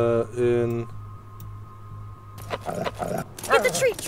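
A dog barks in the Life is Strange video game, a few short barks near the end over game music and sound effects, with a person talking over parts of it.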